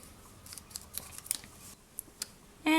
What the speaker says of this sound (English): I just like to cut out a random pattern.